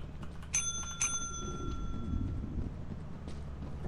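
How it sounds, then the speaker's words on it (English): Two bright ringing bell tones sound near 0.5 and 1 second in a co-op horror video game, like a doorbell, ringing out over a low, rumbling ominous ambience. "did you ring the door? Did you ring the bell?"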